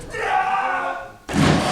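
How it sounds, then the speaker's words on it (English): A wrestler is dropped with a back suplex onto his neck and shoulders at an independent wrestling tournament show, a sharp loud thud after a swell of crowd noise, followed by roaring crowd reaction. "Big back suplex"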